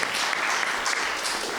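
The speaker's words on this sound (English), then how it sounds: "We can give a round of applause." A roundtable audience gives a steady round of applause for a scholar at an academic rhythm symposium welcome, a dense, even wash of many hands clapping throughout without pause.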